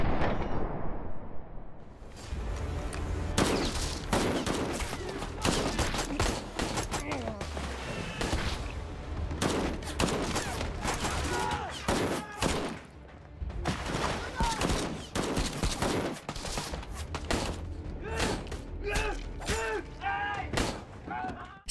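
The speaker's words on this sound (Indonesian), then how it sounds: "Hingga akhirnya baku tembak pun terjadi." Heavy gunfire in a film shootout between police and armed militants, with dense bursts of shots and sharp reports running continuously over a loud, busy action soundtrack.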